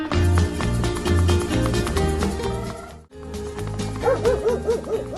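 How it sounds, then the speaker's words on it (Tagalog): A dog barks in an Ilocano comedy drama, giving repeated loud barks close by over a dense, steady background that briefly drops out midway. "Apa tataulan na dayta aso ni Uncle Mau"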